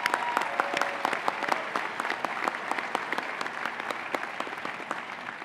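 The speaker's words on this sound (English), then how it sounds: "She makes all this run, so please give Gina a round of applause" Audience at a university winter commencement ceremony breaks into steady, dense applause, many hands clapping continuously at close range with no voices standing out.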